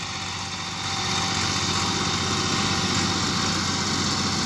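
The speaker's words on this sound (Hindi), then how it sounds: "ये जी अब ट्रैक्टर जा रहा है" A Massey Ferguson 260 tractor's diesel engine chugs steadily as it pulls away, a continuous close rumble that grows slightly louder after the first second, with no voices.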